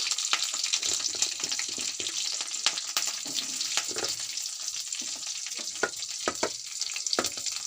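Garlic and green chillies sizzle and crackle steadily in hot oil for a peanut chutney, with sharp spatters and scraping stirs over a constant frying hiss and no talk.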